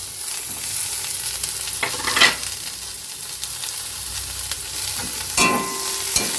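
Garlic, spring onion and green chillies fry in oil for a chicken stew, giving a continuous close sizzle with occasional louder bursts and scraping as the pan is stirred.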